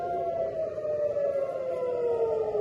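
An air raid siren wails across Tel Aviv during an Iranian missile attack, one long steady tone sliding slowly downward, loud and unbroken over a low background rumble.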